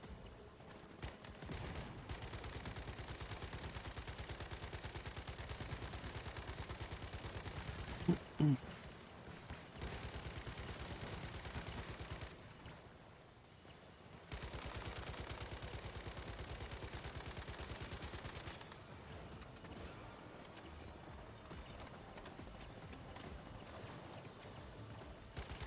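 Bursts of automatic gunfire fill the Once Human video game, with long sustained volleys of rapid shots, a short lull in the middle, then heavy firing again.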